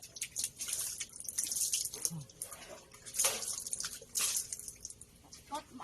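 A hand pump is worked to draw water for washing clothes, giving splashing and dripping water with uneven gushes, fairly quiet, while people talk faintly in the background.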